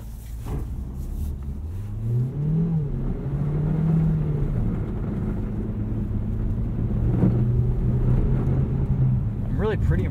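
A 2018 Mazda CX-3 with all-wheel drive accelerates on a snowy winter road, its engine note rising and settling in a steady low drone heard from inside the cabin, with a voice talking over it.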